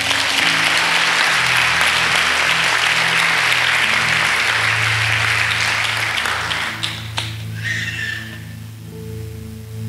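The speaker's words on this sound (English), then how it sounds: "Clap hands for Jesus." A church congregation claps hands loudly and continuously during a Sunday service, the dense applause thinning out and fading toward the end.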